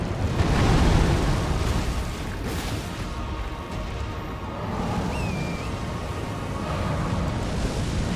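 A Shard Spiral spell strikes a large boss in Elden Ring, a loud, continuous rumbling, crashing roar of magic impacts that swells and holds across the whole stretch, with faint higher chimes over the top.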